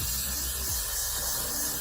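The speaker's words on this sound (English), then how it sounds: "I'll spray some Got2b." Got2b hairspray sprayed onto a wig, one steady close hiss from an aerosol can lasting nearly two seconds without any talking.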